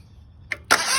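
Kohler Command V-twin engine on a race mower is started with a screwdriver: after a brief click, it catches with a loud burst and keeps running close by with a rough, steady roar.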